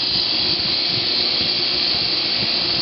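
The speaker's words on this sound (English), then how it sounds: "Make sure you keep the part moving whenever it's touching the wheel, because you want a nice, even deburring job around the edges." A deburring wheel grinds the edges of a small metal pawl in a steady, continuous high whine, close and loud, with no pauses.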